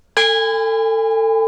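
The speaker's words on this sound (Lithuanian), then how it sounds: "Ką, kaip suprantu, užlipus reik varpelį paskambyti." A small bell rung once at a snowy mountain summit about 2.4 km high on Crete: one sharp strike, then a loud, clear, ringing tone that sustains with a slow decay, heard alone and close.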